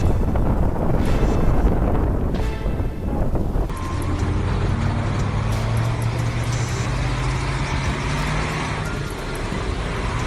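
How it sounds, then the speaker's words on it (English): An old truck hauling a tow engine and a caravan crosses a fast-flowing river, a low engine drone rising in pitch over rushing water and wind buffeting the microphone, loud and close, with no voices. "The scene of the old truck crossing the fast-flowing river with a tow engine and a caravan is truly impressive."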